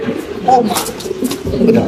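A pigeon coos softly a couple of times amid background murmur and rustling noise.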